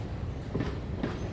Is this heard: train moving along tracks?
yes